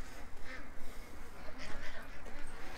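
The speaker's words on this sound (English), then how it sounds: "I think the ducks are following the geese." Ducks and geese calling outdoors, a busy overlapping chatter of quacks and honks at moderate distance, with a person's voice talking over the birds.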